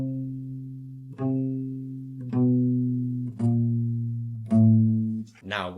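Single guitar notes played slowly one after another, each fretted by a different finger moving up and down the neck in a beginner finger exercise, four or five evenly spaced plucks ringing out clearly with no talking.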